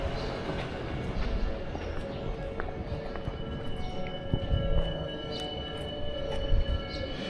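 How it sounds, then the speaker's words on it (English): A train passing on a Tokyo street, a continuous rumbling rattle of wheels and cars with some squealing tones and scattered street noise, steady and fairly loud. "Train coming."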